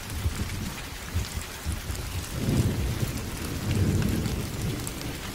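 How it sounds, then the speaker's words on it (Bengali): Heavy rain pours steadily in a thunderstorm while deep rolling thunder swells twice, building around the middle and again near the end, with no voices. "বাইরে তখনও অফুরন্ত বৃষ্টি আর বজ্রপাতের খেলা"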